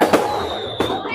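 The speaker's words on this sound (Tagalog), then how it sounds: "so that we can watch the fireworks" Fireworks bursting outdoors at a festive evening event, two sharp loud cracks about two-thirds of a second apart over a steady crowd-like background hiss, with voices faintly audible.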